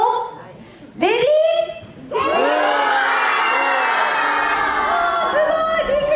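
A festival crowd at a Kumamon stage show shouting the mascot's name in unison, a brief loud call, a pause, then a long sustained loud chorus of many voices.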